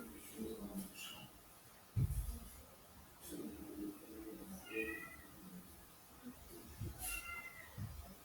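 Cat meowing indoors, several short faint meows spread across the clip against quiet room noise, with a person talking in between.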